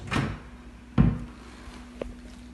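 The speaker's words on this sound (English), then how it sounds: "Desk drawers," Desk drawers in a furnished student room open and close, giving a few short wooden thumps and slides, one near the start, a firmer knock around one second, and a lighter click near the end, with no talking.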